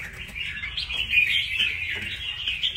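A red-whiskered bulbul (chào mào) calls in a continuous run of bright, warbling chirps, close and fairly loud, with a faint low background rumble beneath.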